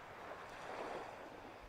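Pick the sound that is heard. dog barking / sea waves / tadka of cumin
sea waves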